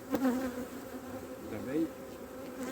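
Honeybees buzzing steadily as a frame is shaken into a box to start a queenless swarm, a dense droning hum with a brief thump near the start.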